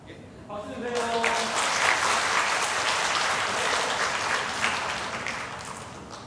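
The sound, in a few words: congregation applauding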